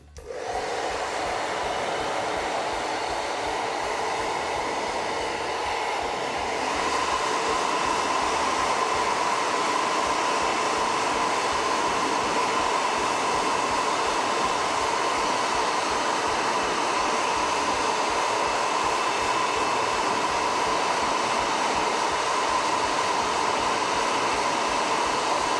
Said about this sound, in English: I do have to bring out the blow dryer for a second